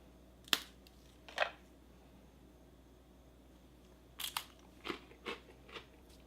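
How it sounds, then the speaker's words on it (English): Sharp crunchy bites into a cracker from a Russian prison guard ration, two isolated crunches followed by a quick cluster of four or five close, dry cracks after a pause, with no talking. "let me taste the cracker first"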